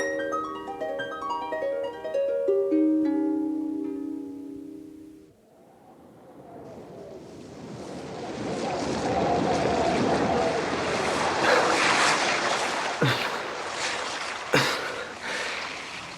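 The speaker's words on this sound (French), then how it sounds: "Courant de l'eau qui gronde, remous violent des crêtes blanches irritées, et les rafales de vent hurleurs" A musical note fades out, then rough surf crashes and churns while gusty wind howls, loud and sustained, with a couple of sharp knocks near the end.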